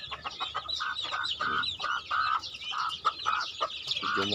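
Several small chickens cluck and chatter close by in short, repeated bursts, overlapping one another in a busy farm coop.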